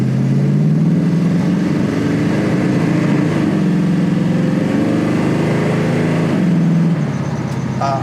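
A 1969 Ford Mustang Fastback Mach 1 restomod accelerating on a road, its loud engine drone rising in pitch steadily through the gears, close and continuous with no talk.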